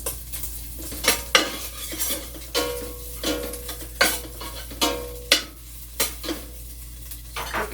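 Bacon frying in a pan, heard as a quiet steady sizzle under a series of sharp utensil scrapes and clinks that come roughly once a second as the bacon is stirred and turned.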